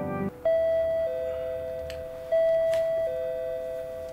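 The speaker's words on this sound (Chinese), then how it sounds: "门铃声不合时宜的响了起来。" A two-tone doorbell chimes indoors, each chime a clear sustained high tone stepping down to a lower note, sounding twice about two seconds apart, with a short burst of other noise just before the first and no talking.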